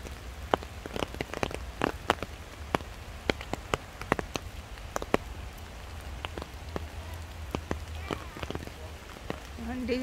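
Rain falling in a forest during blackberry picking, a steady patter of drops with sharp individual taps on leaves and surfaces throughout, fairly faint and close, with no talking.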